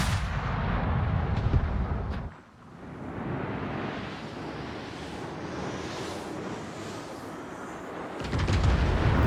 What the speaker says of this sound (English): so I fired a salvo at him.